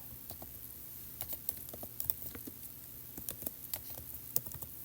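Light taps on an iPad's on-screen keyboard while an app name is typed, a soft irregular patter of quick clicks that is sparse at first, then denser and quicker, close and quiet with no talk.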